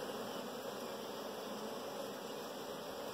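Honey bees buzz at a queenless hive in a bee yard. The hum is dense, steady and unbroken, fairly soft, with no voices.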